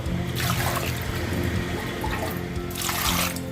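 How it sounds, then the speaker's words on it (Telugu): Water pours steadily into a cooking pot of yam pieces with a rushing, splashing sound, swelling near the start and again at the end, close by with no voices. "ఈ ముక్కలు ములిగేంత వరకు వాటర్ వేస్తాను"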